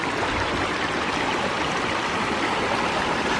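A small unnamed side stream feeding Fagan Creek in Monte Sano Nature Preserve, Alabama, rushes and burbles steadily nearby, a constant close wash of flowing water with no voices.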